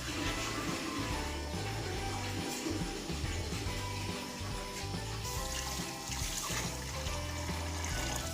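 Two kilograms of water pour into a cooking pot for Saudi-style lamb mandi, a steady running gush that lasts throughout beneath louder background music.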